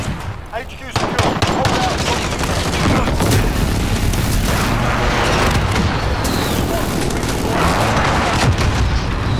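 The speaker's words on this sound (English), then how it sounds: "Enemy precision airstrike. Take cover." Heavy Call of Duty: Modern Warfare battle audio during an HQ capture, with dense booms and rattling gunfire under a precision airstrike, continuous and loud throughout, with voices breaking through at moments.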